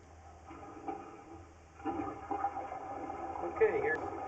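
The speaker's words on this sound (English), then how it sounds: "Should I keep flushing or no?" A toilet flushes in a house with a sewage ejector pump, a low watery rush that builds and swells partway through, fairly faint and mixed with background voices.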